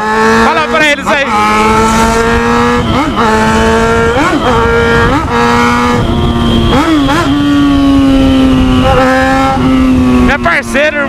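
A Yamaha XJ6 motorcycle engine revs loud and close, the pitch climbing and dropping repeatedly in sharp throttle blips over a steady idle drone.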